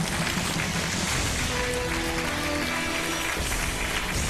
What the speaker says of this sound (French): on vous applaudit pour 2 500 euros